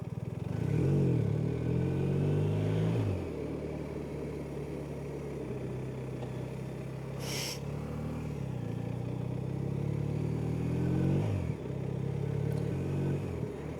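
A motorcycle being ridden, its engine droning steadily up close with a couple of rising revs as it accelerates, and a brief clatter in the middle, with no talking.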